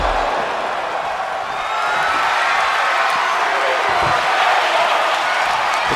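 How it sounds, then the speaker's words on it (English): A pro wrestling arena crowd chanting during a tables match, a steady loud roar of massed voices that swells slightly partway through, with no separate talk over it. "Crowd chanting, "We want tables.""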